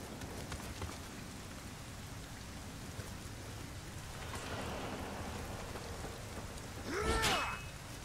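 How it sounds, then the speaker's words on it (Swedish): Steady rain pours across a scene in the video game Nioh, a constant hiss filling the background, with a faint rumble of thunder and a brief rising in-game effect near the end. "Hör vi regnet?"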